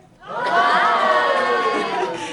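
A crowd of children at the Albuquerque Aquarium bursts into loud cheering and shouting after a brief quiet start, sustained excited voices filling the indoor space.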